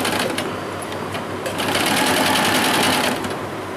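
Close, loud, continuous whir of a sewing machine stitching satin ribbon onto net fabric for a small double-layer dress, the motor running steadily with slight speed changes throughout.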